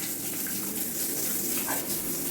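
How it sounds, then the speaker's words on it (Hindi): A gentle stream of water poured into a toilet bowl to rinse away cleaner, a steady, close splashing wash that continues without a break. "इस तरह से आपको हल्का हल्का पानी डालकर साफ़ करना है"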